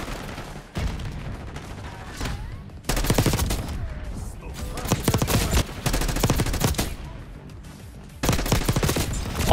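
Automatic weapon fire in the video game Black Ops 6, loud rapid bursts of gunshots with brief gaps between volleys, continuing through the whole stretch.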